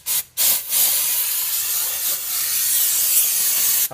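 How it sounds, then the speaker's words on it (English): Brake cleaner hisses out of a spray can in long, loud bursts around the front brake rotor area of a 1996 Honda CR-V, with short gaps between sprays near the start and end. "I like to give it a good spray all the way around,"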